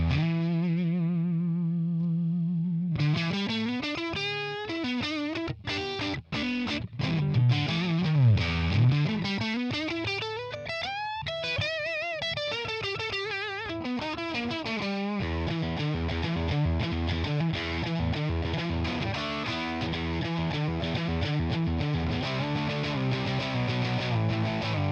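Electric Stratocaster guitar played through a Tonex One boutique amp model: a sustained opening chord, then busy distorted riffs and bends with chorus-like effects and reverb, loud and continuous with no talking.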